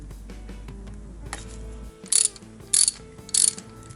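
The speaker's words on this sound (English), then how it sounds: "Let's take off the spark plugs." A ratchet loosens the spark plugs on a Harley-Davidson engine, close and clear, with a quiet clicking run followed by three sharp, loud bursts of rapid pawl clicks, and no voices.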